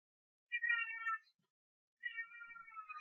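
A cat gives two drawn-out, tonal meows about a second and a half apart, the second trailing longer, fairly faint against an otherwise silent room.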